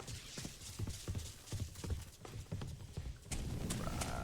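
Horse hooves clip-clopping in the PC role-playing game Sacred 2 Gold, a regular trotting beat of distinct hoof strikes, then a denser burst of game noise near the end.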